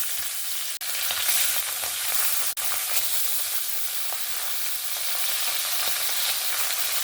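Salted tangra fish sizzling steadily in smoking-hot oil in a wok, a continuous bright crackle broken by two brief dropouts, with no voices.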